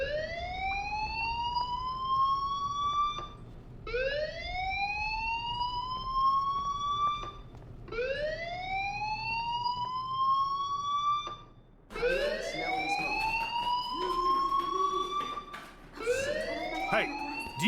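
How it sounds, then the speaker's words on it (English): A fire alarm in the video game Life Is Strange wails in repeated rising whoops, each sweep lasting about four seconds, loud and continuous, with faint background sounds mixed in during the later cycles. "Hey, do you hear that fire alarm? That means you should be outside."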